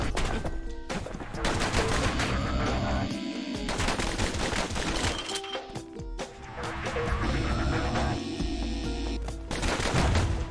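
The Calamity Cannon in the video game Bastion fires repeated heavy, explosive blasts in dense bursts over game music, loud and continuous with a short lull near the middle.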